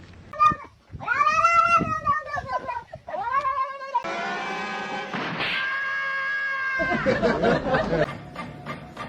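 A shaved pet cat meows and caterwauls in several drawn-out, wavering calls, close and clear, with short gaps and a thump, as people talk and laugh nearby.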